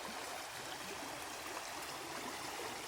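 A strong, clean river flows beside abandoned rural land, giving a steady, even hiss of rushing water at a moderate distance with no other sounds.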